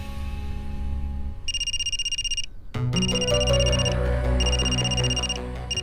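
A phone ringtone plays in repeated bright electronic bursts, growing louder and fuller partway through as it rings on steadily with a low background hum beneath.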